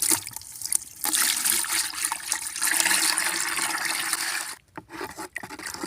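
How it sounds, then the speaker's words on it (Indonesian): About two liters of water pour into a mixture of amino acids and trichoderma for dipping red curly chili seedling roots, a loud, steady gushing splash that tapers off near the end, with no speech. "Baru kita taruh air, kira-kira 2 liter."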